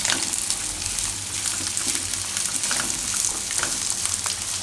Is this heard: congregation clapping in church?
no